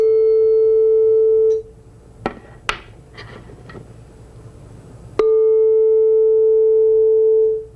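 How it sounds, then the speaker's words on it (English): Two demonstration tubes each sound a steady pure tone, one pitched at 441 Hz and the other at 440 Hz, played one after the other. Each tone is loud and sustained, with a gap of faint knocks and clatter between them. "So this one plays a frequency of 441 hertz, and this one plays a frequency of 440 hertz."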